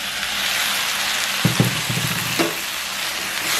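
Chopped tomatoes and chillies sizzle steadily in a hot pan while making a squid curry, a constant close frying hiss broken by a few soft stirring knocks near the middle.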